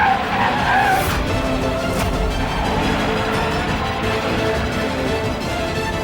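A car with failed brakes skidding, tires squealing loudly and continuously over a rumbling engine, close and sustained throughout.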